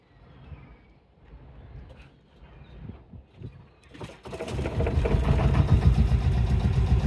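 Boat engine of the Winter Rose starting up on a trip out to sea, quiet low rumbles giving way after about four seconds to a loud, steady mid-pitched engine roar close by.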